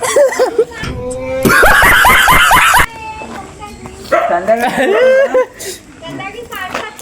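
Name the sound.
dog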